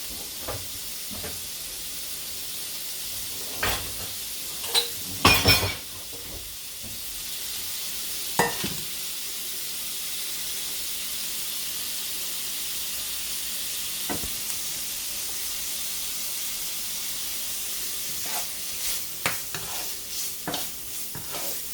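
Sausage and cabbage sizzle in a skillet with a steady hiss, punctuated by several sharp scraping and clattering stirs, clustered early and late, with no talking.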